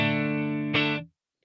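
A single sustained electric guitar chord through a LEKATO Tank-G effects processor's AC30 amp model, lightly distorted, ringing for about a second with a brief strum accent before cutting off.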